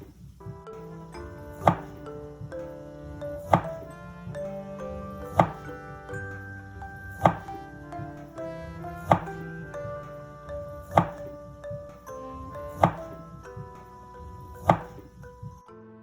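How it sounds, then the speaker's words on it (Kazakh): A knife chops smoked sausage into small quarters on a board, with crisp, evenly spaced strikes about every two seconds under soft background music. "Сүрленген шұжықты майдалап 4 бұрыштап тураймыз."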